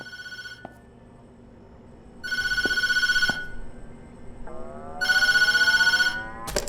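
An old-style telephone bell rings in the Tattletail video game in two long, loud bursts separated by quiet, with a low rumbling hum and a few soft clicks in between.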